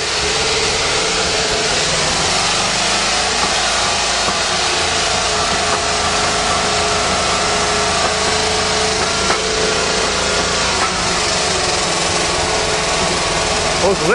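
A 1935 Mercedes engine, started after seven years in storage, runs roughly and continuously with loud ticking lifters and a dense mechanical clatter filling the whole stretch; voices are faintly present beneath it.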